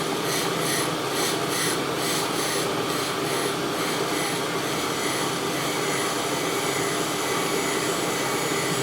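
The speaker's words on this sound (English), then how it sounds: "Yeah, it's still grinding there," A grinder sparks out on a metal workpiece, taking a very fine cut and producing a steady, continuous high rasping hiss with a faint rhythmic pulsing early on.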